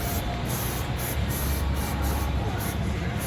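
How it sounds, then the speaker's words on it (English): Silicone spray hissing onto the rubber of a truck's windshield wiper, a steady continuous aerosol spray held close and fairly loud for a few seconds with no pauses. "then you have to spray some silicone spray. The rubber will slide."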